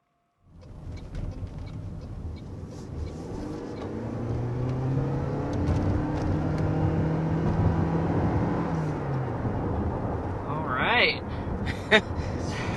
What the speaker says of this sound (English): taking off in the speedy new Prius